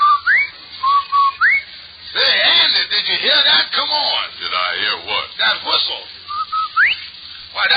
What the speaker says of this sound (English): That's the Rinso White Whistle.